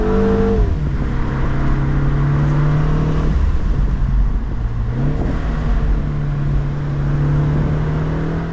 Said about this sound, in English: With this suspension, this car is just railing around these corners and is a blast to drive.